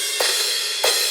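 Two crash cymbal hits from a Get Good Drums metal kit in a 90s rap metal mix, each a bright broadband burst that rings on over a steady wash of sustained sound.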